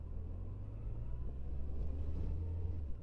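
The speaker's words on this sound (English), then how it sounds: "Even if it does get a bit busy with traffic sometimes." Car traffic rumbles through a small Peak District village, a steady low engine drone from passing vehicles that swells slightly midway, heard at moderate distance.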